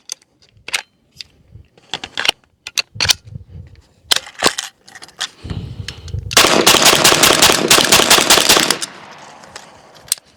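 A BINTAC T9 semi-automatic 9mm airgun fed from a belt magazine fires close up: scattered single sharp cracks, then a dense, fast run of shots lasting a couple of seconds before a few final pops.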